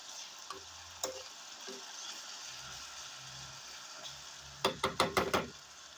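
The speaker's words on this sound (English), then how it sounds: "You add in, then you continue stirring with medium heat" Red onion and rosemary frying in hot pure coconut oil over medium heat, a soft steady sizzle with a scraping stir early on and a quick burst of several sharp clattering stirs near the end, no talking.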